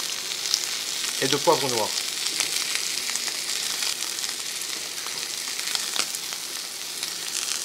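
Montfort duck breast sears plancha-style in a hot pan, giving a steady, bright sizzle throughout while someone talks over it.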